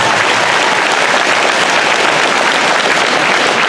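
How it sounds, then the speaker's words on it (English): Loud, dense applause from a large crowd at a horse show ring retirement ceremony fills the whole stretch, steady and unbroken with no talking. "Give him another good round of applause as he gives up this side."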